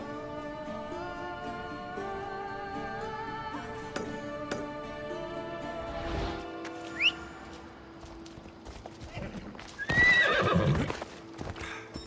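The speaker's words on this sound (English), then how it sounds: "You've made Spiro a happy horse, Mistios" A horse in the video game Assassin's Creed Odyssey gives two loud whinnies, the second longer and brighter. Steady hoof clip-clop runs beneath, with a few faint ambient tones.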